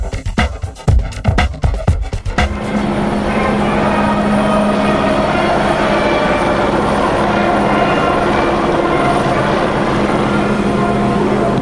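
Helicopters circling over a motor race venue, with a steady loud rotor-and-engine drone that fills the clip after a few seconds of choppy, pulsing sound at the start.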